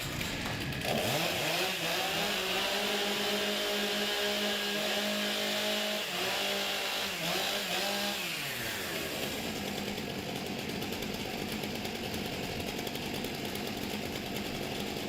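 Competition chainsaws are revved and warmed up at a STIHL Timbersports event, giving a loud, sustained engine whine that shifts pitch several times and then drops into a rougher, broader roar, with no talking.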